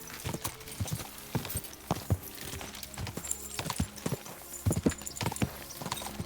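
A horse in Kingdom Come: Deliverance II trots with rhythmic, close hoof clops, overlaid with a brief whinny, all without voices.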